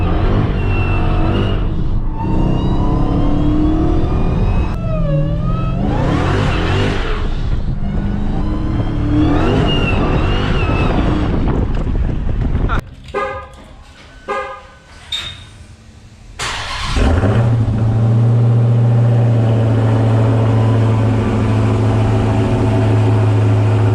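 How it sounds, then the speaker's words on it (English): An 800hp Dodge Hellcat revving and accelerating hard, loud engine roar with rising pitch sweeps, a brief quieter gap, then a steady low drone returning. "If I floor it right now, it's not gonna grip."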